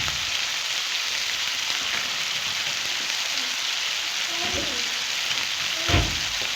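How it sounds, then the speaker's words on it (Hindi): Chicken curry masala fries in a pan with tomato added, giving a steady, rain-like sizzle throughout. A few stirring scrapes and clinks are heard near the end, one slightly louder than the rest. "अब इसी में मैं टमाटर ऐड करूँगी।"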